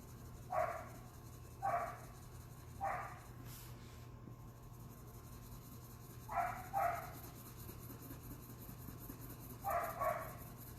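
A dog barks in short pairs and single yaps at moderate distance, five or six bursts spread across the stretch over a steady low hum, with no talking.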